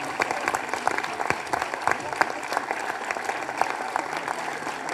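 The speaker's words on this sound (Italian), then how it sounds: "facciamo un ultimo applauso con tutti" A final round of applause for the volunteers at a public event on a stage with the mayor, loud crowd clapping with distinct individual claps popping out, sustained evenly throughout.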